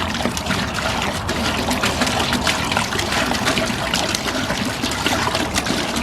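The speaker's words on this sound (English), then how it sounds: "Let's put 5 gallons of water in this old pot right here." Water pouring into an old pot, five gallons for a distilling mash, a close, loud, continuous splashing stream holding steady throughout with no talking.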